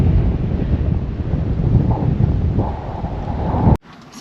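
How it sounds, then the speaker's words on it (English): Loud, steady wind buffeting the microphone in a continuous roar on a hilltop by a castle, cutting off abruptly near the end. "It's very, very windy"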